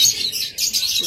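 Green-cheeked conures, a pair, chirp in two quick shrill bursts separated by a brief dip, close and loud.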